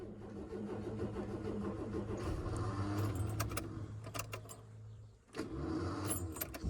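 Ford Falcon that sat 15 years in an Australian farm paddock, its starter motor cranking in uneven bursts with a mid-pitched engine churn, a brief pause, then cranking again, close by.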